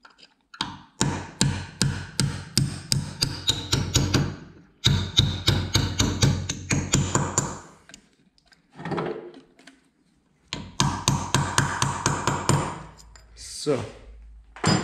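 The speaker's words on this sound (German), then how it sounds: "nun brauchen wir einen kleinen Durchschlag und einen Hammer und klopfen diese nach hinten." A hammer tapping a small punch to drive pins out of a metal lathe: quick runs of bright, ringing metallic taps in rapid rhythm, several bursts separated by pauses, close and clear, with a short scrape between them.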